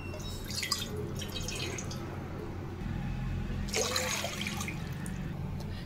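One and a half cups of water go into a pan to start sugar syrup for semolina gulab jamun, with two short splashy bursts of pouring and dripping over a quiet kitchen background.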